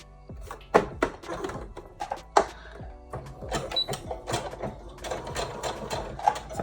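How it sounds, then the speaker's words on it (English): A sewing machine stitches lace appliques onto a wedding dress, a close mechanical whirring chatter in short runs broken by clunks and pauses, with no voices. "I'm going to go ahead and sew all the way off the edge"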